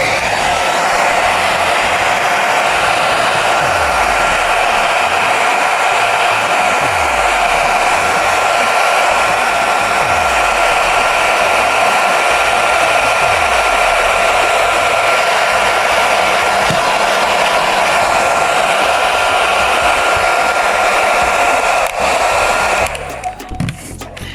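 A hair dryer blows steadily on a notebook page marked with pen ink, a loud continuous whooshing drone that holds for over twenty seconds before cutting off near the end.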